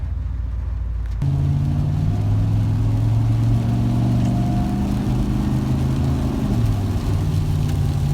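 A 1996 Ford F-150 engine idles steadily after a spark plug change, a continuous low mechanical drone that starts abruptly about a second in and holds a fairly even hum at close range with no talking.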